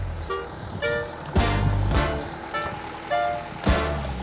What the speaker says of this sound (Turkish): Aha geliyor araba geliyor